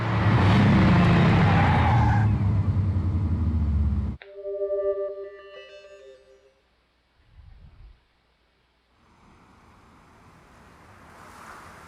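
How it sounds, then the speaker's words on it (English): A car in the video game Killer7, first a loud sustained roar of driving that cuts off abruptly, followed by tonal ringing, a brief rumble and then a soft, wind-like hush, with no talking. "Is that the Olmeda car?"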